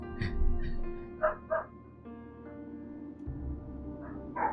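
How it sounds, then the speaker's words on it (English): Dogs barking outdoors at a distance, a few short bursts of barks and yips over steady background music from a PC role-playing game. "Apologies for the dogs outside."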